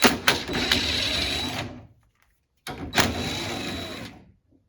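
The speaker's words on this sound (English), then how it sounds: "Remove these two 10mm head bolts that hold the secondary hood latch release lever." Two bursts of a power tool whir loudly and close, backing out 10mm head bolts on a 2010 Toyota Tundra's hood latch release lever, with a short silent pause between them.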